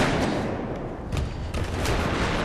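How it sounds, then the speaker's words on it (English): Rocket launcher fired at a tank during a Battlefield 3 match, a dense roaring blast and rumble of gunfire and explosions that fills the whole short stretch, loud and continuous. "So I reload my rocket, I shoot my rocket at it"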